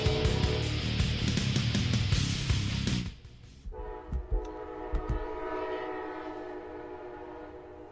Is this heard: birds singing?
no